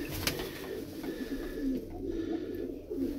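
Pigeons kept for sale coo softly and repeatedly in a low, throaty rhythm, several birds close by amid a murmuring background.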